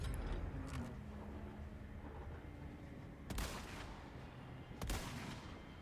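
Gunshots in Resident Evil 4 Separate Ways, with a shotgun used from a moving vehicle, sounding as two sharp, loud blasts about a second and a half apart over a steady rumbling background.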